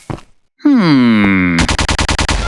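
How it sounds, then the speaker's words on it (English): Detonated chain reaction of explosives in the Minecraft video game, a sharp blast followed by a long falling groan-like tone, then a rapid, loud string of repeated bursts like gunfire. "what an explosion!"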